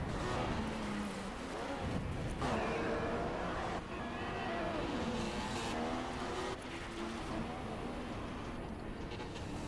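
An F1 car's engine at racing speed in F1 2016 at Bahrain, a loud, continuous high-revving whine with pitch rising and falling through gear shifts, close and steady throughout.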